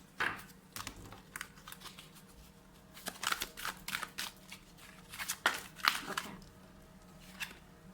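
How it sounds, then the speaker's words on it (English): Tarot cards being shuffled by hand in a quiet indoor reading, a series of soft papery riffles and rustling bursts that come and go at close range, with no voices. "So I'll just shuffle again."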